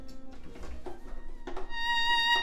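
Embertone Friedlander solo violin sustain patch from a virtual instrument, a soft bowed tone swelling into a clear, steady sustained note, played alone and fairly quiet.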